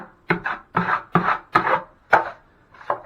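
A drywall knife presses joint compound into fiberglass mesh tape over a wall patch, making about seven short, rasping scrape strokes in a steady rhythm, close and alone.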